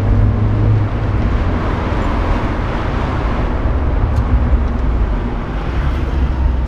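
A Mazda MX-5 NB sports car drives steadily with a loud, close engine drone and road rumble, with no distinct gear change standing out.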